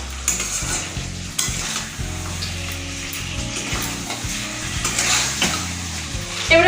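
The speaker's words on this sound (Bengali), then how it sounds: "মাংসটা আমি এভাবে কিছুক্ষণ কষিয়ে নেব" Chicken stir-fried for biryani, sizzling loudly in the pan with repeated scraping strokes of a spatula and a steady tonal hum running underneath.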